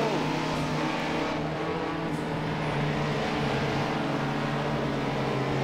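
A race car engine in Project Cars, heard as a steady, loud, droning roar that holds its pitch throughout with no talk over it.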